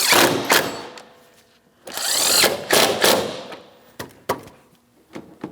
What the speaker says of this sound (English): let's tighten our mounting bolts